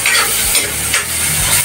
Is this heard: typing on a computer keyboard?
no